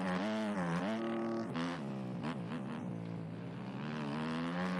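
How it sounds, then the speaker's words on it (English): Dirt bike engine in the motocross game MX Bikes, revving and winding down under engine braking on the Farm 14 track, a close, steady buzzing drone with shifting pitch throughout, no talking. "it's mainly just a little engine braking coming through"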